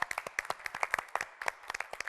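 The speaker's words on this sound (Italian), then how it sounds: "Facciamo un applauso da qui," Audience clapping in a theatre in Osoppo at a commemorative plaque ceremony, a brief burst of irregular claps from a modest crowd, fairly close.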